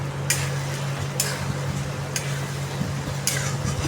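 Tomato puree and turmeric being stirred in a pan, with a few sharp scraping strokes at regular intervals over a steady low hum and faint background noise, no voices.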